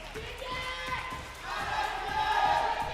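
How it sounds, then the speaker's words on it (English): Crowd noise swelling into cheering and applause at an MPL Philippines esports match, with tonal music or announcer sounds layered over a steady roar. "Let's give him a big round of applause."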